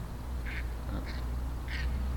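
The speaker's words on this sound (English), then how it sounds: "we got some birds over there. They look like wild geese," Three short nasal quacks from wild ducks or geese sound at a distance in Stroudwater, Maine, in November, over a steady low outdoor rumble.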